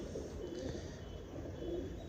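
A champion pigeon coos quietly in a few low, gentle phrases against a constant background hiss, somewhat faint and with no talking.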